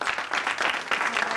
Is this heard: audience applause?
yes